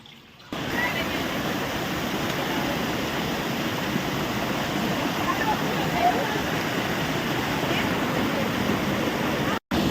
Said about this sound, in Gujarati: આ ધોધના નજારાનો આનંદ લેતો અમારા નીતેશભાઈ બારીયા